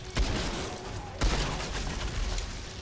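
Gunfire in the shooter Outriders, two sharp, loud shots about a second apart cracking over a dense, noisy combat backdrop.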